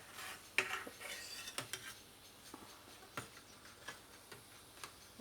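Utensils tap and clink against a dish as a stuffed aubergine filled with mince, onions and tomatoes is served, giving sparse, quiet, irregular clicks with a few sharper knocks.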